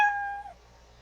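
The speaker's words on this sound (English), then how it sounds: "So Scratch Cat by default is always going to have the meow sound" Scratch Cat's default meow sound effect plays once, a short clear cartoonish cat meow that fades within half a second.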